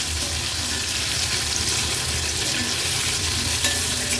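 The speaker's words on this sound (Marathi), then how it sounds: "उलट पालट करून हे बटाटे आपल्याला ह्या अगदी थोड्याच तेलामध्ये असे तळून घ्यायचे आहेत।" Potatoes frying in just a little oil over a medium flame, a loud, continuous close-up sizzle with faint scraping as they are turned and stirred.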